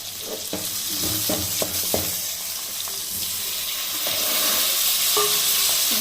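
Tomatoes sautéing with asafoetida in a pan for tiffin sambar give a steady close sizzle, broken by repeated scraping stirs that come thick at first and then space out, with no voices.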